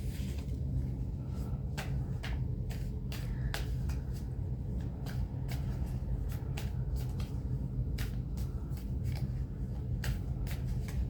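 Tarot cards being shuffled produce repeated crisp flicks and riffles at an uneven pace over a steady low hum, close and moderately loud, with no speech.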